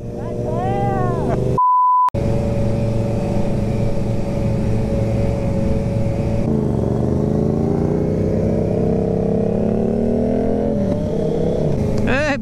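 Motorcycles roar past at a Slovak outdoor event, their engines rising and falling in pitch as they approach and go by, loud and close, with people talking and a short beep early on.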